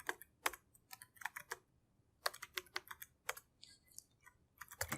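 Computer keyboard typing, entering a new user's name into building-management software: irregular bursts of crisp key clicks, fairly close, with short pauses between groups and no voices.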